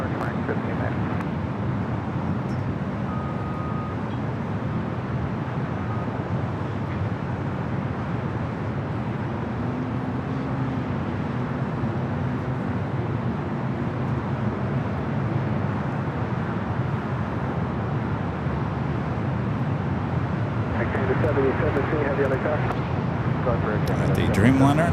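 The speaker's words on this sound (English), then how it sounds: "The Dreamliner rolling down at 25 right." A Boeing 787 Dreamliner rolls for takeoff on runway 25 right at LAX, a steady broad jet roar held throughout and swelling near the end, with radio voices talking over it.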